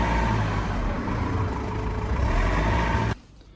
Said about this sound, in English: I'll just give it some rev while I'm here.